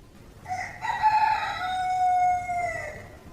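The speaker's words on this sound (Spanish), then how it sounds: "En ese momento, un gallo cantó." A rooster crows once, a clear, loud cock-a-doodle-doo rising and then held in a long drawn-out call before fading, standing alone over faint background.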